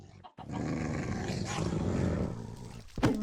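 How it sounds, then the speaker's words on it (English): A pack of wolves in modded Minecraft growls and snarls in a rough, sustained rumble close by, ending with a sharper bark-like burst. "I just got a pack of wolves hanging out outside."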